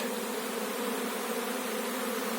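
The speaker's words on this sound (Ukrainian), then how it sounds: "досить нормальний рій" A swarm of honeybees, Carpathian bees, flying in a dense, continuous buzzing hum that stays steady throughout, fairly close, with no talking.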